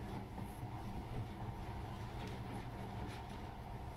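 A monorail train in the game Metro: Last Light rumbles along steadily, a continuous rolling drone with faint rhythmic clatter, loud and close throughout with no talking.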